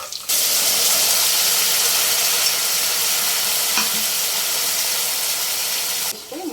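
Potato pieces sizzle loudly and continuously in a pan while being stirred, a dense frying hiss with a few soft scrapes, no talking.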